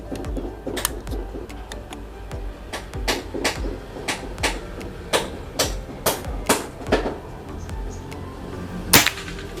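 Bocap Pajero Gun Gen 5 PCP air rifle, full CNC, firing with sharp, dry cracks and clicks, a series of close, separate impulses spaced irregularly over a low background.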